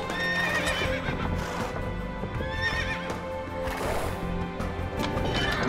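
Horses neighing and hooves clip-clopping from light cavalry units in Age of Empires II: Definitive Edition, several loud whinnies overlapping with busy game battle sounds.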